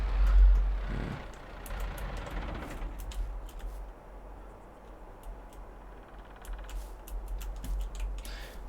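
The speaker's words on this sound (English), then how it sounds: "Do I have to be able to leave the tractor run?" A tractor engine in Farming Simulator 22 runs at a steady, fairly quiet idle, with a slightly louder surge at the start and light clicks scattered over the drone.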